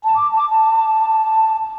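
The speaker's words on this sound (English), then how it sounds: "that's the whistle and the shakuhachi" A sustained, pure whistle-like tone from a Ketron keyboard's whistle and shakuhachi voices holds one steady pitch with a breathy edge, loud and close, lasting nearly two seconds with no talk.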